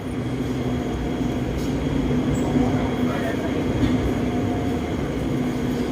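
Alstom-built Red Line electric commuter train at Krung Thep Aphiwat station gives a steady, loud rumble and drone with a constant low hum, as if idling nearby with no distinct events.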